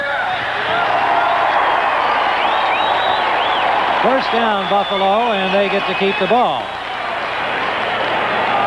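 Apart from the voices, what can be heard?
stadium crowd cheering at Bears v Bills NFL game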